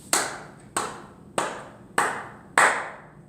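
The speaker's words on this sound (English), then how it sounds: "Will you clap with me to remember those 5 smooth stones?" Children clapping together in unison at a vacation Bible school session, five crisp, evenly spaced group claps about half a second apart, each ringing briefly in the room before the next.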